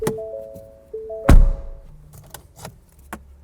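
Inside a 2022 Ford Maverick, the interior door handle clicks, then the door shuts with a single solid, heavy thunk, followed by a few softer clicks and rattles.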